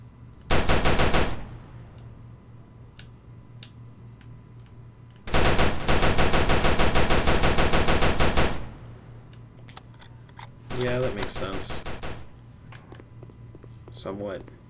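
Rapid automatic gunfire in a PS Vita homebrew shooter, three loud bursts of machine-gun fire, the middle one lasting about three seconds, with quiet gaps between them.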